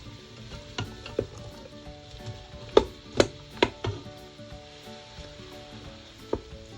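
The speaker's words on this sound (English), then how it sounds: "I'm just going to let this saute for a bit" Lentil soup ingredients sautéing in a Ninja Foodi, a steady soft sizzle broken by a handful of sharp scraping clicks of a spoon stirring against the pot, close and alone without any talk.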